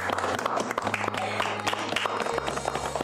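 Group of people applauding together at a gathering in a Marathi TV drama, steady close clapping throughout with a low background hum beneath.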